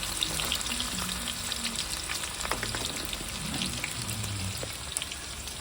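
Onion and chopped ginger frying in a pan for homemade Manchurian, a steady crackling sizzle with low hum underneath and occasional stirring clicks, no talking.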